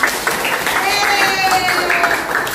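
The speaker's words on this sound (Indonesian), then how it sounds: "tepuk tangan Kak" Students in a classroom clap together for a few seconds, a steady patter of hands close by with voices talking over it.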